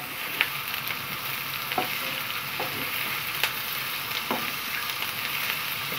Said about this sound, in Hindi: Şimdi biz soğanları biraz yumuşaklatacağız.